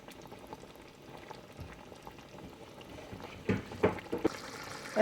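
A pot of yam simmers in spiced broth, the liquid bubbling softly and steadily with a low continuous burble, then a few louder splashy pops and stirs near the end.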